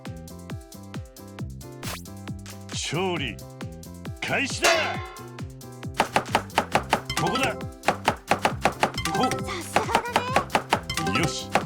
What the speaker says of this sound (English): So this is chopping and whisking.